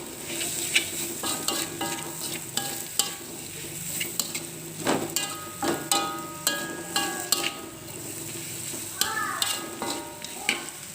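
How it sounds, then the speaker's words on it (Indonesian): Pak choy stir-fried in a wok for fried kwetiau, giving steady sizzling and frying under repeated metallic scrapes and clinks of the stirring utensil, with some voice in the background. "Kita masukkan sayurnya, kita tumis sebentar hingga sayur ini sedikit layu."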